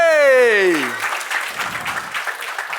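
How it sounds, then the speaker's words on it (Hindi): A small audience claps for Meera after a magic show trick, a scattered round of applause following a descending voice, with talk and noise mixed in. "तालियां मीरा के लिए"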